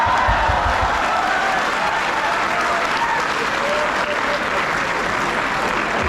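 Sustained audience applause at a kavi sammelan poetry recital at IIT Roorkee's Thomso festival, a dense steady clatter of many hands filling the hall throughout, loud and continuous with a faint murmur of crowd underneath.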